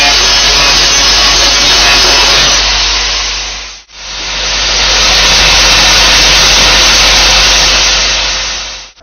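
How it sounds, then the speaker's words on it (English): Hand angle grinder clearing the burr from a freshly butt-welded band saw blade joint, a loud steady broadband grinding whine that cuts out briefly midway, then resumes at full strength with no talk. "clear the burr by a hand angle grinder as shown"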